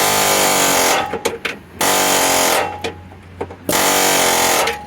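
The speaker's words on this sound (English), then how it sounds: "Hopefully we can load one of the more sharp tip chisels in here to bust it up a bit more." A pneumatic chisel hammers at a stuck part on a Chevy HHR in loud rattling bursts, stopping twice for short gaps with clanks and knocks before starting again.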